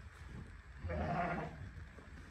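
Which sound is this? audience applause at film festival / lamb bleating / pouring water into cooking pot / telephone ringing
lamb bleating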